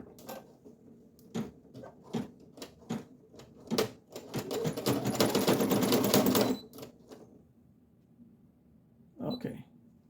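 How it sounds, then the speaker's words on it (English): A single needle embroidery machine stitches on a sun hat: a few separate mechanical thumps, then a few seconds of rapid loud stitching, then quieter scattered knocks as it stops. "I'm gonna go ahead and lower the foot and we're gonna start embroidering."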